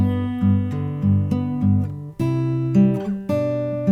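Plucked fingerstyle guitar playing the verse of a song, a steady chord progression with bass notes under arpeggiated strings, clear and close, no voices.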